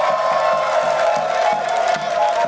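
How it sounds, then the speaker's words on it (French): A large crowd in Kara, Togo, cheers and applauds for ANC president Jean-Pierre Fabre at a political welcome gathering. The roar of shouts and whoops is loud and sustained, with a steady rhythmic drumbeat repeating underneath. "Applaudissez-le très fort"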